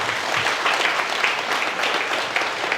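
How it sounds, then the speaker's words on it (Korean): A church congregation at a Korean Sunday worship service gives applause, a dense, continuous clatter of many hands clapping at moderate loudness. "영광의 박수 한번 드리겠습니다."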